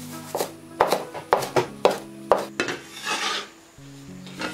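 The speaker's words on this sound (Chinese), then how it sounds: "准备一把香葱切段" A knife chopping a bunch of green onions into segments on a cutting board in a home kitchen, with about six crisp, evenly spaced knocks followed by softer scraping, close and clear.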